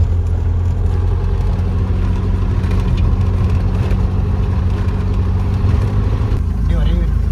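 Low, steady engine idle of a Tata Harrier SUV on an off-road hill trail, close and continuous, with someone talking over it throughout.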